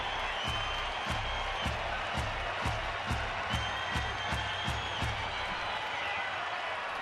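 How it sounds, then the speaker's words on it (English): At a night game between Cincinnati and Arizona, a baseball stadium crowd claps in a steady rhythmic beat and cheers over broad, continuous crowd noise, with faint talking underneath. "Crowd getting involved now."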